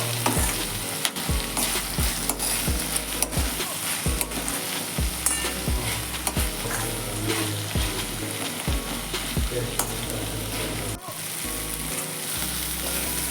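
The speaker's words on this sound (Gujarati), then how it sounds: "એ જ સ્ટેજ ઉપર કેપ્સિકમ નાખી દઈશું અને એને પણ સાંતળી લઈશું" Capsicum, onion and tomato sautéing in a pan for paneer makhanwala, with a steady sizzle and frequent rhythmic scrapes of a spoon stirring the vegetables. It is close and loud, with no talking.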